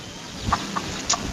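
A chicken gives several short, sharp clucks in quick, irregular succession, close by and fairly loud over a quiet background.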